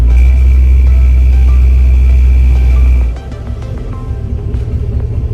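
A car engine is revved with the gas pressed while the brake is held, setting up a burnout. A loud, steady low rumble holds for about three seconds, then drops to a lighter, rougher idle.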